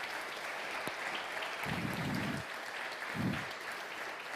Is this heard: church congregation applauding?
yes